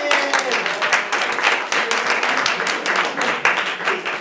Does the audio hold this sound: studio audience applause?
yes